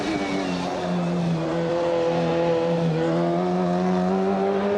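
A race car's engine in a sim racing game on the Nordschleife, driven with a BMW M3 GT2 wheel, holds a loud, steady high-revving drone with gradual pitch shifts as gears change, no one speaking.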